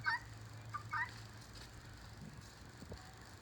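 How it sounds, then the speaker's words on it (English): Lavender guinea fowl on a homestead give a few sharp, high, squeaky calls at the start, then fall quiet over a low steady background hum. "These are lavender guineas. Love having them here. I love the sound."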